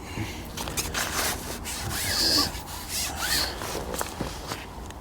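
A fishing reel winds in a shot leader with a continuous rasping whir, with a faint rising squeak partway through.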